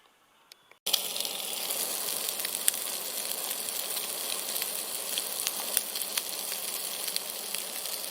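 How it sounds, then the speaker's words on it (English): A fry-up cooking on a camping stove outdoors, a sudden start into a continuous close, even sizzle with small pops and crackles that runs steadily to the end. "I'm now going to make my cup of tea and start doing a fry up."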